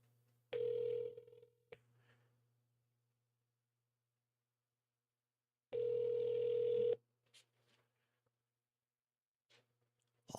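Two long ringback tones sound over a telephone line on an outgoing call, each lasting about a second and separated by several seconds of silence, with faint clicks in between and near the end.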